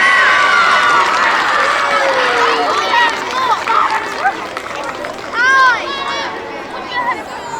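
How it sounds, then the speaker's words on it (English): A school audience cheers and applauds for students, with children's excited shouts and chatter rising over scattered clapping in a loud, lively crowd. "Give them a big round of applause."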